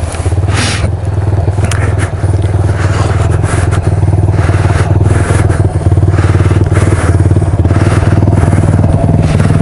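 A vehicle engine idles steadily in snowy, gusty weather, a low constant rumble with faint rattling and wind buffeting layered over it, loud and close throughout.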